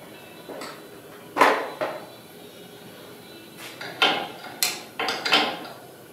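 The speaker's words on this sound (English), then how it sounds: "Grab me a longer wrench to tighten up those bolts." Wrench tightening bolts on a Toyota Tacoma front leveling kit, giving sparse metallic clicks and clanks at close range against a quiet background.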